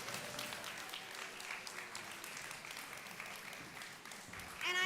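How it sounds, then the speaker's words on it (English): An audience at the All Things Food Summit at SXSW 2024 applauds a speaker with steady, moderately dense clapping that holds throughout, quiet in level, with faint voices at the very end. "So please give Joka a round of applause."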